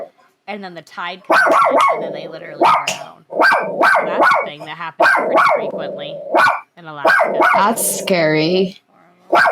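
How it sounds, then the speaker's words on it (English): Daisy, a pet dog, barks in repeated sharp bursts through the room while a person keeps talking over her almost continuously. "Sorry about the barking"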